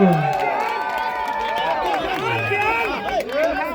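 A crowd cheers and shouts at a Thai fight event in round four, a steady roar running under a loud announcer's continuous talk.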